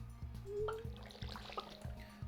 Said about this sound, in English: So let us just water these quickly.